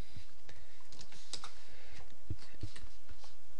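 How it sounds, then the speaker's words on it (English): Fast typing on a computer keyboard, a close, irregular run of crisp key clicks and thuds lasting throughout. "let me type in I love Excel 2010"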